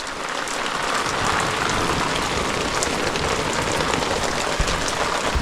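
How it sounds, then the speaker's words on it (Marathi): Heavy rain drums steadily on surfaces nearby in a Konkan village, a dense continuous hiss with no voices. "पाऊस आत्ताच आला आहे"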